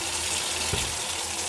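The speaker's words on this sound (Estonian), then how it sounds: "Ja loputan korralikult seebi maha." Tap water runs steadily into a sink while soap is rinsed off washed hands, a continuous close hiss with one brief splashy burst midway and no talk.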